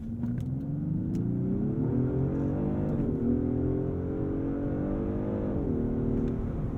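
A Genesis G90 e-Supercharged sedan launching hard from a brake-boosted standstill toward 60 mph, its engine note climbing steadily, dipping briefly at gear changes, then rising again, heard from inside the cabin without talking.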